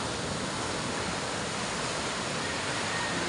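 Rough sea waves crash at the shore after the water has swelled, a loud, broad, continuous rushing wash with no breaks and no voices.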